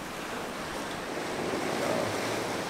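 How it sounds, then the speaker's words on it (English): Strong wind and ocean waves on a sailboat crossing the open Pacific from Hawaii to Alaska in winds near 22 knots, a steady loud roar of surf and microphone wind buffeting with no voices. "The wind is still around 22 knots. According to the forecast, it should come down during the night, and also the waves."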